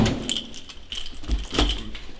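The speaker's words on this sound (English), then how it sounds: "Keys are in the car." A set of keys jangling close by on a game day, a few short metallic rattles and clinks with small pauses between them.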